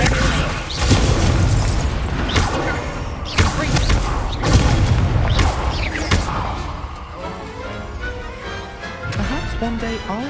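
Incendio fire spell cast in the Hogwarts Legacy video game during a duel, heard as loud booming bursts and crackling blasts with thuds, layered over game music and effects.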